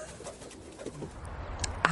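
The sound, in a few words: pigeons cooing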